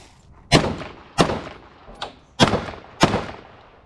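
Live-fire gunshots from a handgun drawn from a holster during shooting practice: five loud, sharp reports at irregular intervals, each with a short echoing decay, nearby and outdoors.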